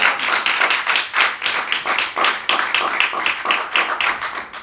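A church congregation claps in praise of Jesus, giving quick, rhythmic, fairly loud hand claps that run in steady bursts throughout.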